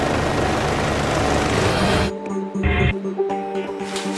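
Loud broadband rotor and engine roar from a Life Flight rescue helicopter landing at Waikanae Park, steady for about two seconds then cutting to quieter mechanical hum and whine with a few thumps.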